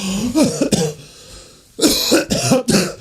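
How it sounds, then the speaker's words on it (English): A man coughs hard in two bursts of several rapid, harsh coughs, close and loud, separated by a brief pause. "I'm actually coughing."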